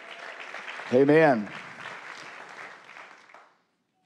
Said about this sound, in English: Why don't you clap your hands and thank the Lord for what he did through you.